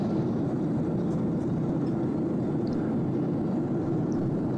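A Gol airline passenger jet on flight 1571 passes overhead, heard as a steady, continuous low roar that stays even and unbroken from start to finish.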